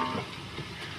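Onions frying in oil in a home kitchen, a steady close hiss and crackle of sizzling that holds level throughout with no voices.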